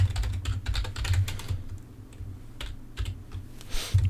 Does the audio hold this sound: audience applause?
no